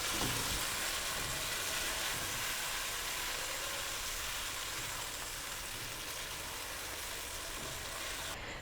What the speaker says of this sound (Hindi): तोरियों को प्याज टमाटर के साथ हमने इतना भूनना है कि इससे ऑयल सेपरेट हो जाए